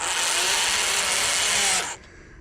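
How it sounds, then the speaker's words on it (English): A bigger drill bit bores a counterbore into a seat-back panel so oval-head screws sit lower, part of a 1955 Triumph TR2 restoration. The power drill whines loud and steady for about two seconds, then stops abruptly. "You just do that with a bigger drill."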